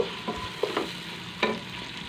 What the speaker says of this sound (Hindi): प्याज को हमने करना है अच्छी तरह से फ्राई, ब्राउन करना है इनको हमने।